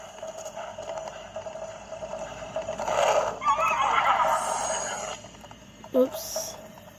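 A horse in Zelda: Breath of the Wild whinnies near the stables, a clear rising-and-falling neigh in the middle with a short snort-like call near the end, over quiet game ambience.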